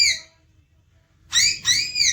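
A young child whistles at a one-year-old's first birthday: a short whistle, a pause, then two longer wavering whistled notes in quick succession, clear and close.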